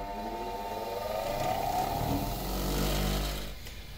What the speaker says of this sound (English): so we're gonna shape this out using the grinder